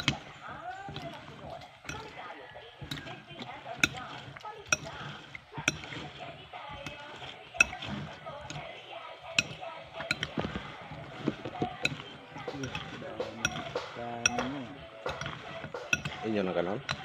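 Kinilaw, raw fish salad with cucumber, being mixed in a bowl: repeated clinks and knocks of a utensil against the dish, irregular and fairly close, while people talk in the background.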